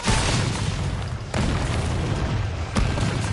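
In Resident Evil 3, rocket launcher blasts go off as loud, deep booms, two sharp bursts landing over a constant roar of game noise.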